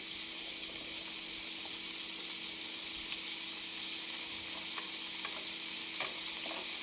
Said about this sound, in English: And so you just continue to agitate your pan and saute these